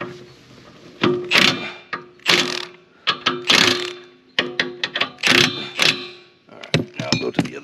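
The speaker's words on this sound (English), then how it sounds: "Just gonna tighten them up a little more." A wrench tightens 3/4 bolts on a MechMaxx B150 during assembly, giving repeated bursts of ratcheting clicks in short uneven runs with brief pauses between them, close and fairly loud.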